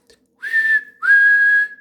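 A person whistles two clear sustained notes, each rising slightly at the start, loud and close with a short gap between them.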